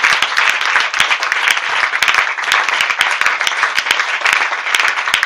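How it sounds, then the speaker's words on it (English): A church congregation clapping hands together, loud, dense and continuous with sharp individual claps standing out, close and sustained for several seconds without talk. "Clap your hands for"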